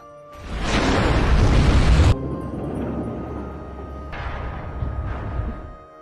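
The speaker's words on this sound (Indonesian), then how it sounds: "sambil memegang dinamit hingga akhirnya meledak" Dynamite explosion in a film, a loud sudden blast that roars for about two seconds, then cuts to a lower rumbling tail with debris-like noise that swells again before fading.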